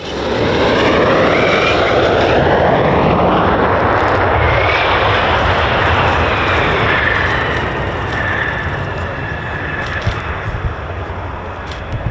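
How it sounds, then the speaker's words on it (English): An F-15 fighter jet with a hydraulic failure lands on a runway and catches an arrestor cable with its tailhook, its engines producing a loud, continuous roar that holds steady and eases slightly toward the end. "This F-15 had to make an emergency landing after an issue with its hydraulics, meaning it couldn't brake on its own."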